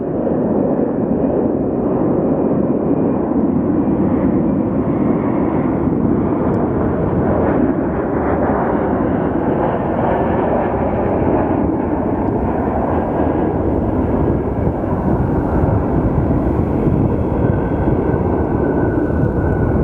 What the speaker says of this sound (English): random like plane noises that I've never noticed before, especially when they turn on their reverse thrusters